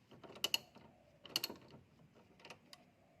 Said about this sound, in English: Tighten the self-locking nut until you can see the tip of the stabilizer link bolt.